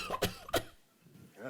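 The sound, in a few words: recorded cough audio sample from a student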